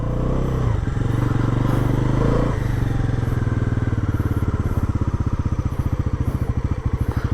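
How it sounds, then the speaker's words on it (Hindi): Bajaj Pulsar NS 400Z motorcycle engine running at the Bajaj plant before a test ride: a steady, loud close-up rumble that shifts in pitch early on, then settles into a fast, even pulsing idle. "तो स्टार्ट भी हो गई, साउंड सुन लो आप लोग।"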